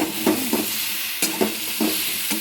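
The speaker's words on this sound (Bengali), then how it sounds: "সবজিগুলো সব ভাজবো মূলোটাও দিয়ে দিলাম মূলোটাও বেশ শক্ত একসঙ্গে দুটো ভাজা হয়ে যাবে" Mixed vegetables and radish frying in a pan for a spinach dish, a continuous sizzle broken by several sharp scraping stirs, no voices.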